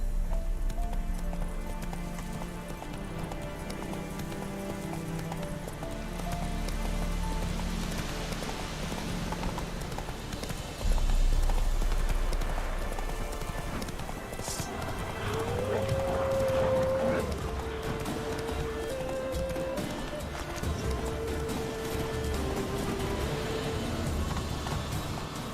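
Hooves of a galloping horse in The Witcher 3 video game, a steady rhythmic clip-clop running throughout under game ambience and background music, with a louder thump near the middle.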